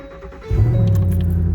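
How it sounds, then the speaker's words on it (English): An old truck's engine turns over after a brief faint rattle, catching at about half a second and settling into a loud, steady low idle close by. "Get the old truck started."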